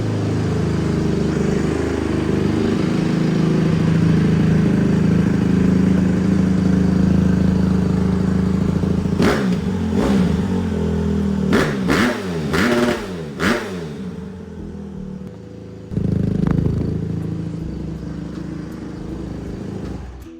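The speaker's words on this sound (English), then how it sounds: "getting some wheelies up in second gear" A 2025 Honda CRF 150RB dirt bike engine holds a steady loud drone, then rips through several sharp rev bursts as it pulls wheelies in second gear, and a final rise follows after a short lull.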